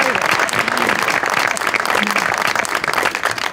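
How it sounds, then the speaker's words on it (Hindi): Loud, close applause from a comedy show audience, dense clapping with crowd noise mixed in, steady from start to end while a voice or two briefly rises through it. "सबसे पहले बेटा आपके कॉन्फिडेंस के लिए तालियां।"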